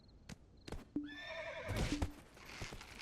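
A horse in Black Desert Online lets out a loud, shrill whinny mid-clip, framed by a few sharp hoof clip-clops and thuds before and after.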